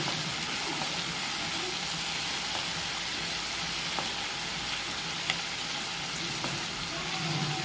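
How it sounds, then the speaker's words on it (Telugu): Vermicelli fries in a pan with a continuous close sizzle, small pops and crackles scattered through, and occasional light stirring scrapes. "ఇదిగోండి ఇలా ఫ్రై అవుతుంది కదా."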